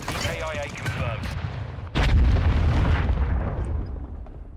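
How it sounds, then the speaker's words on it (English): Mortar strikes explode in a Call of Duty match, a heavy booming blast landing midway after sharp gunfire-like cracks, with a dense rumbling roar trailing off; game voices sound at the start. "Friendly mortar strike inbound."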